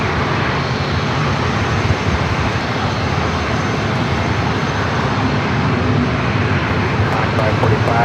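Challenger business jet taking off from runway 27 at San Diego airport, a loud, steady, broadband engine roar heard at a distance and holding level throughout.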